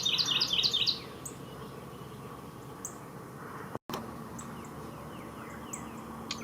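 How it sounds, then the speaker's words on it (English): A Carolina wren in a backyard near a pond sings a loud, fast series of repeated bright phrases in the first second. Softer, more distant chirps follow over a low outdoor hum. "Here's a Carolina wren singing, just as I thought"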